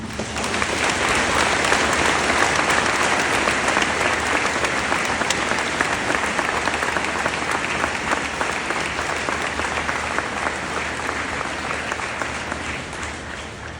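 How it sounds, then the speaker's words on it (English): A Veterans Day crowd gives a long, loud round of applause welcoming a retired artillery sergeant to the stage, dense steady clapping that holds for many seconds and tapers slightly at the end. "Let's give him a round of applause."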